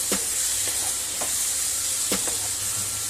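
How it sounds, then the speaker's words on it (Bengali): Spice paste for jhinge chingri (ridge gourd with prawns) sautéing in a pan, a steady broad sizzle broken by a few soft scraping stirs of the spatula, close and fairly loud, with no voices. "এবার 3-4 মিনিট ধরে মশলাটা ভালো করে কষিয়ে নিতে হবে।"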